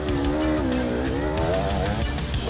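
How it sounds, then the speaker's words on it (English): Enduro motorcycle engines whine and rev hard as riders climb a zigzag hill at a hard enduro race, the pitch rising and falling continuously and loud throughout. "The difficulty of Day 3 starts immediately with a zigzag hill climb."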